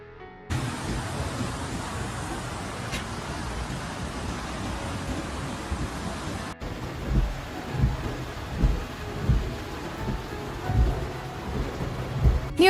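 Thunder rumbles repeatedly through steady heavy rain during Typhoon Mawar in Japan, the downpour a constant hiss with low rolling booms surging in the second half.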